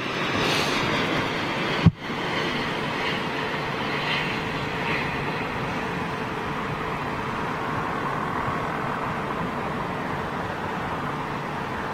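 A Boeing Dreamliner airliner at London Heathrow Airport gives a steady, loud engine roar with broadband rumble that holds through the whole stretch, a single sharp knock briefly breaking in early on; no voices.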